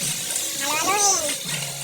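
Mixed seafood with crabs being stirred in a pan at home, giving a steady wet sizzle and scraping throughout, with a faint voice rising briefly in the middle.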